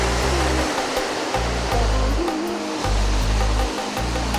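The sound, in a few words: sea waves crashing on the Arabian Sea shore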